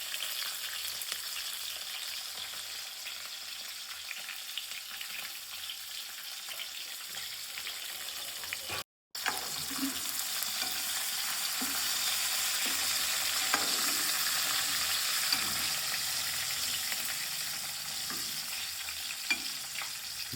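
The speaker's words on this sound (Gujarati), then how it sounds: "આપણે મરચાંને સારી રીતે ફ્રાય થવા દેવાના છે." Green chillies fry slowly in a pan over low heat, giving a steady broadband sizzle with occasional small pops and stirring scrapes. A brief cut interrupts the sizzle midway.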